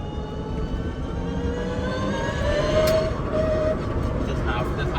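A converted electric Honda Civic making 250 hp and 440 lb-ft pulls on the road at half throttle, giving a steady heavy rumble heard from inside the car with faint rising whine tones layered on top.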